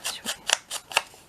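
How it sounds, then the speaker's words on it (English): Scissors snip through small bits of red onion-dyed fabric, five quick crisp cuts in steady rhythm, close and clear with nothing else heard. "Let's just get some scissors. Let's just cut these little bits off."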